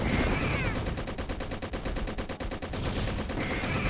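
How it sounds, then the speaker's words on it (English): A rapid-fire machine gun adapted from a laser gun in the Laser Dolphin video game, loud fast regular bursts of shots rattling steadily for several seconds with a short pause near the end. "we've got a rapid fire machine gun now. An adaptation for my laser gun."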